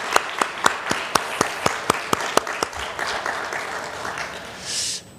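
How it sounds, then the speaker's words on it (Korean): A church congregation at a dawn service claps, starting with a run of sharp, evenly spaced single claps that blur into a softer, scattered patter of applause, with a brief noisy burst near the end. "하나님께 영광의 박수하겠습니다"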